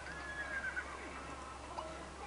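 Horses in The Sims 3 video game whinny faintly over a quiet hum of game ambience, with a couple of short, thin neighs in the background.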